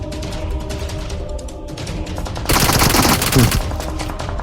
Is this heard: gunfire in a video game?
yes